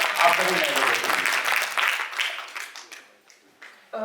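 Audience applause at a Hindi poetry gathering (kavi sammelan), a dense burst of clapping fading into scattered claps, then a short renewed spurt at the end.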